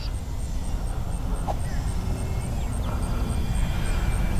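An Avios Albatross HU-16 radio-controlled model seaplane drones steadily in the distance while making a touch and go, its engine hum continuous and moderate, with voices talking over it.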